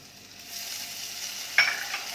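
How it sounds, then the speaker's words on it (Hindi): Ginger garlic paste hits hot oil with crackled cumin in a pan while cooking dhaba-style arbi, giving a steady close sizzle that jumps into a sharper, louder hiss as the paste goes in, then settles to a busy frying crackle. "अब इसमें जिंजर गार्लिक पेस्ट डालेंगे"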